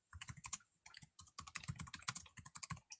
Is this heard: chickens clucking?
no